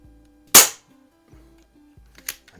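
A Hatsan Jet 2 .177 air rifle fires two sharp shots from its magazine, a loud close crack followed nearly two seconds later by a fainter one, with quiet mechanical clicks between.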